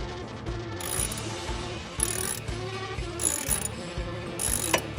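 A ratchet wrench turns a bolt on the engine cover of a Chevrolet Corvette C8, giving close, rapid clicking bursts in repeated strokes with short pauses between them.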